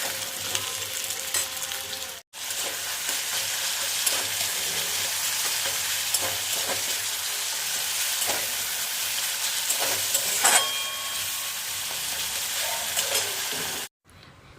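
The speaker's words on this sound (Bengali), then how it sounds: "এই যে আলু ভাজছি" Potatoes fry in a wok with a steady bright sizzle and occasional stirring scrapes, close and continuous, broken by two brief silent gaps.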